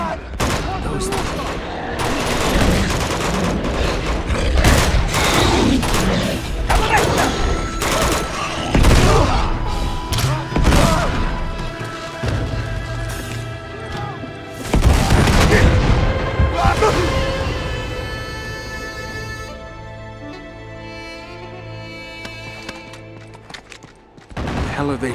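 Sustained, dense gunfire in the video game Uncharted 2: Among Thieves: overlapping rapid shots and booms that stay loud throughout, with occasional shouted voices in the mix.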